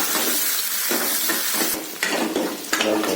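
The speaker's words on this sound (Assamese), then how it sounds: "পিঁয়াজখিনি ভাজি লৈছোঁ" Onions fry in hot oil while a spoon stirs them in the pan, a steady loud sizzle broken by scraping strokes and a few metallic clinks.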